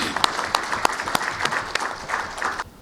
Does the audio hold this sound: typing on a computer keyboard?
no